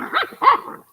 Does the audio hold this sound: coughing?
no